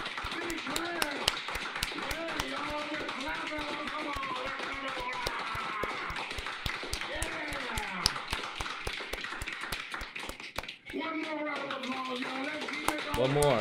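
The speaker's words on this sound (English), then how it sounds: "Everybody, round of applause. Big round of applause." Sharp, regular hand claps run throughout as a streamer's chat gives a big round of applause for a departing guest on the Fishtank live show, mixed with ongoing talk and high vocal sounds.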